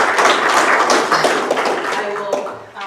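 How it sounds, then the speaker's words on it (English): Applause at a city council meeting after an audit report: a short burst of dense hand clapping from an indoor audience, fairly loud and steady before fading slightly. "Everybody deserves a big round of applause"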